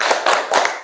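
A classroom of children claps a short rhythmic cheer routine, with a few quick grouped claps in unison, close and crisp, then silence.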